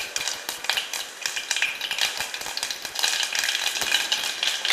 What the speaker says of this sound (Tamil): அடுத்ததாக வெந்தயம் போட போகிறேன்